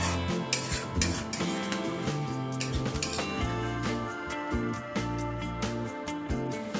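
Ground spice paste with blended cashew being stirred and fried in a pan for a Bengali chal potol dish, giving a steady run of scraping and sizzling with frequent spatula clinks against the metal, loud and continuous throughout.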